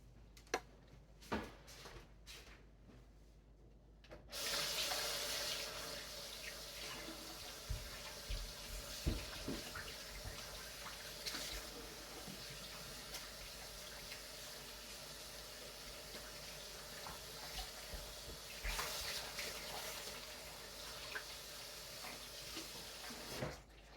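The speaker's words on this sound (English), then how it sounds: "And now we do have to wash our hands before we cover it again." A kitchen sink tap gushes steadily as hands are washed during sourdough bread making, a few faint clicks and knocks first, then continuous running water close by with occasional splashes and shifts in flow.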